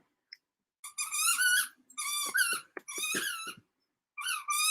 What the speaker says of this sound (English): my dog's got some new toys today. Some squeaky toys, and he loves to squeak the squeaker